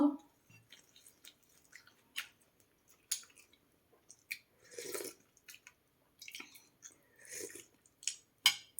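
Someone chews and eats Thai sour curry with canned fish close to the microphone, with wet bites and smacking mouth sounds in irregular bursts separated by quiet pauses.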